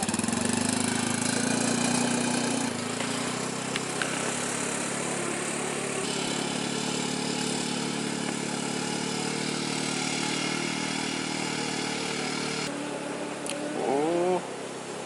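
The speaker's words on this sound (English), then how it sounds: "we're using the four-wheeler to pull it in through the trees" A four-wheeler engine runs steadily at a close, loud idle-to-mid rumble as it pulls a long hose through trees on a farm during lagoon pumping. The drone stays constant throughout, with no talking.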